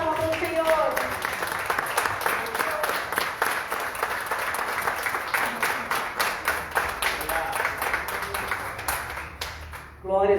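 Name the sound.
applause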